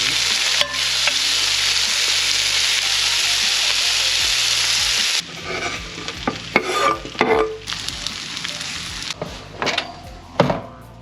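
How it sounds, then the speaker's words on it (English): Butter hits a ripping hot pan for blackened mahi, giving a loud, dense sizzle for several seconds that then drops to a lighter crackle broken by clattering knocks and scraping. "You got your pan ripping hot."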